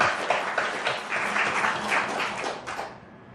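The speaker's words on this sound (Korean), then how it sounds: "우리 함께 박수로 서로를 격려하고" Church congregation applauding together during a Christmas Day worship service in Cheonan, a steady wash of clapping filling the room for about three seconds before fading out.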